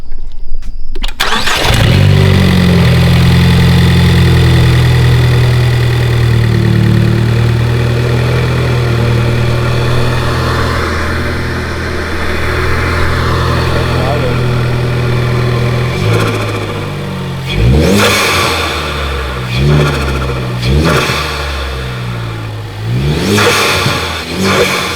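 A Ford Focus ST fitted with a COBB intake cranks and fires up loud and close, settles into a rough idle, then gives several sharp revs with audible intake whoosh and flutter between blips.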